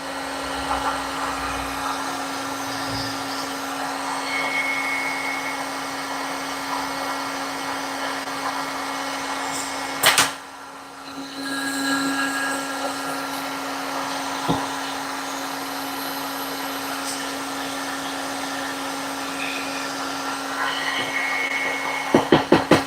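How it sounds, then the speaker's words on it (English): Powder coating equipment runs with a constant loud whooshing, blower-like roar and a steady hum, briefly cutting out partway through before starting again, with a few sharp clicks. "I'm just over here powder coating"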